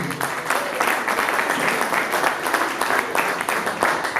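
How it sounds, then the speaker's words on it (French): Audience at a dance and music show applauding a welcomed guest, with dense clapping and crowd noise, loud and steady with slight surges, and some voices in the crowd. "des acclamations pour l'accueillir"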